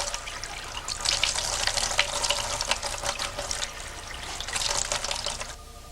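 Water runs steadily from a kitchen tap in a continuous splashing hiss, close by, with no talking.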